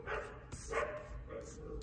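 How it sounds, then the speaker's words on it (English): Several dogs barking in short, sharp bursts indoors at home, a few close yaps and woofs spaced unevenly across the moment, with a person's voice mixed in among them. "Oh my God, the dogs."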